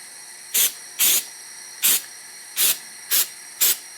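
Six short bursts of a spray can hissing black paint onto a hot LT77 gearbox part, each about a quarter second, in an uneven rhythm over a steady background hum.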